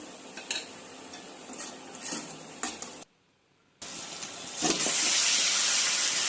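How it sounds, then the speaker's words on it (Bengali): Turmeric, salt, chili and coriander powders are stir-fried in a pan, giving a steady sizzle with scraping strokes and utensil clinks at close range, a brief silent gap midway, then louder frying. "এখন আমি ভালো করে মশলাটা কষিয়ে নেবো"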